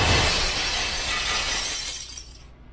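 Glass shattering: a loud, sudden crash of breaking glass that rings on with a bright spray of fragments and then quickly dies away to silence, with no voices.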